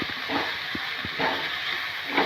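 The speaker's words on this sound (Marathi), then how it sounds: "मसाल्यामध्ये मेथी परतून घ्यायची" Fenugreek leaves sautéing in a spice masala with turmeric, a steady hissing sizzle with soft scraping stirs at intervals, close and fairly loud with no voices.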